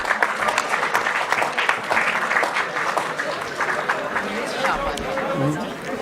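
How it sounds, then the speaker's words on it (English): An audience at an entrepreneurship and innovation conclave applauds startup founders as they take the stage, a dense clapping wash mixed with crowd chatter and some speech over it. "Give them a huge round of applause,"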